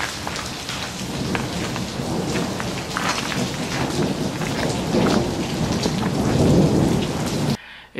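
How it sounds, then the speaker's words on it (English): Heavy rain pours down with rumbling thunder during a storm in California, a loud, steady downpour with pattering drops and low rolling thunder that cuts off abruptly near the end. "it's pouring rain today."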